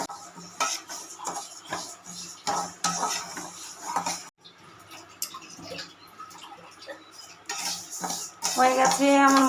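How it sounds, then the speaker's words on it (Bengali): Mung dal dry-roasting in a pan, with a utensil scraping and clinking against the metal in repeated close stirring strokes, ending in a louder burst of sizzle. "হয়ে গেছে আমার মুগ ডাল ভাজা।"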